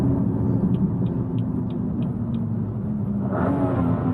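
A car whose transmission has a faulty software update downshifts from fifth to third gear: a steady engine drone runs throughout, then a brief rise in pitch near the end.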